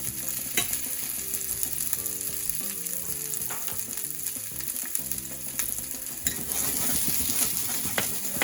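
Pickled Brussels sprouts and red peppers cook in a pan, a continuous loud sizzle and frying crackle with occasional stirring scrapes and clinks, growing a little busier toward the end, with no talking.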